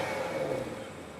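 The exhaust note of a 2023 BMW 760i xDrive in sport mode: a brief, fairly quiet mid-pitched engine drone that eases off toward the end, with no talking.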